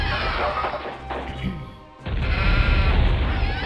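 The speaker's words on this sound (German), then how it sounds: "Habe ich schon wieder ein Schaf ermordet?" Sheep bleating as it is slain in the video game WarCraft II, with crunching, shattering impact noises and dense game sound effects, fairly loud and alone.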